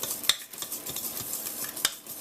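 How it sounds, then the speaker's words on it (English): Cherry pineapple cake batter is whisked by hand in a bowl: quick, close, uneven scraping and tapping strokes, with a couple of sharper clicks against the bowl. "So now I'm just going to take my whisk, I'm doing it by hand, and I'm going to whisk this all together"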